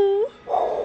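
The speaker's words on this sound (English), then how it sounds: "Dogs." A dog at an equestrian show gives a short whining yelp followed by a brief rough bark, close by and lasting under a second.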